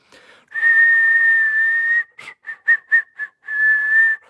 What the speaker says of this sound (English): You hear that? You whistle, he looks at you.